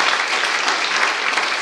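A church youth congregation claps together in a steady, dense burst of applause, continuous and fairly close, with no clear speech over it.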